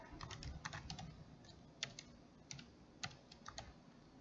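Rapid keystrokes on a computer keyboard typing a query into a search box, close and clear with uneven clusters of taps and a few sharper key presses, no voice.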